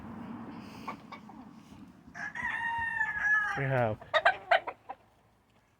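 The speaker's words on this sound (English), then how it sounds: "14 roosters in these scratches working." Roosters kept in scratch pens on a gamefowl yard give one loud, drawn-out crow close by, followed by a few sharp clucks, with a brief spoken phrase and a dog around.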